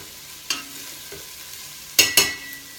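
Onions sautéing in a pan, a soft background sizzle broken by a few spatula scrapes and clanks against the metal, one early and a quick pair near the end, close and without talk.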